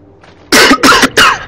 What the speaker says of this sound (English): Sorry, I was just clearing my throat.